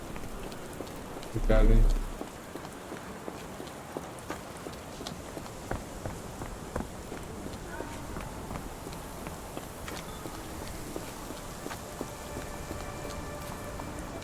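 Steady, faint rain falls in a Sherlock Holmes The Awakened game scene, a soft continuous patter with scattered drops, while someone briefly speaks early on.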